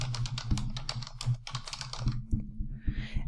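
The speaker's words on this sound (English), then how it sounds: "I can type in my question, and then I can enter my different answers." A quiz question is typed on a computer keyboard in quick bursts of close, crisp key clicks with short pauses between them and no talk.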